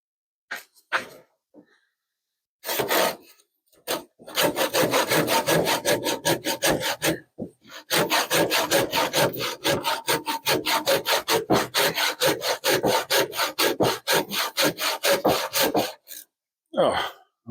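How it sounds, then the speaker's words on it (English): A hand saw cuts through wood in a hobbyist workshop, loud rhythmic rasping strokes in long steady runs with brief pauses between bursts. "and then finish it off with a hand saw."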